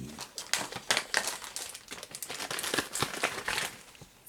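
Soft, continuous crinkling of a small plastic zipper bag as a Figma action figure accessory is dropped inside, a close, busy rustle with quick crackles throughout.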